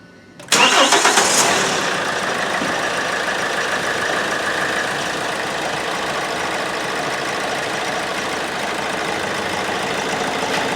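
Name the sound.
Hyundai i30 1.6 CRDi diesel engine starting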